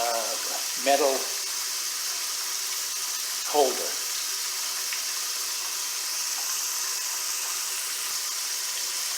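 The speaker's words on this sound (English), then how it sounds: "that water has been running on the eggs for 2 full minutes" Tap water runs steadily over eggs sitting in an egg pod tray, a constant bright hiss throughout, with someone speaking briefly over it near the start.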